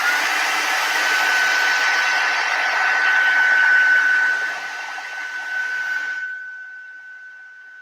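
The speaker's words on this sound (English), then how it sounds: "Now dry it." A hair dryer blows steadily and loudly at close range while drying a watercolor painting, its whooshing airflow and whining motor tone continuing for about six seconds before cutting off, leaving only a fading hum.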